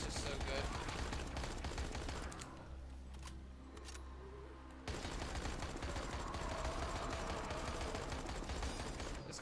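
SMG gunfire in Dying Light The Following, rapid loud bursts of automatic shots close by, pausing for a duller quieter stretch in the middle before firing resumes steadily to the end.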